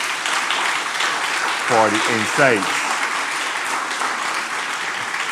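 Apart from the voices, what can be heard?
audience applause for a panel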